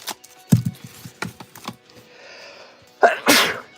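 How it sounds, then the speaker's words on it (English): A single loud sneeze bursts out near the end, preceded by a few sharp clicks and a quiet pause. "What a sneeze."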